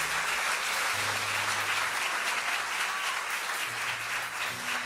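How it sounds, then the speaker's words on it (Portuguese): A church congregation applauds together, a dense sustained wash of clapping from many hands in a large room, steady and fairly loud for the whole stretch. "Você pode aplaudir a Jesus por essa palavra?"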